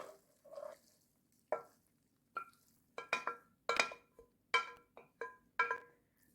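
Vegetables and noodles stir-fried in a pan for Thai noodles, a series of separate scraping, tossing clinks, quiet and close, coming in an irregular rhythm.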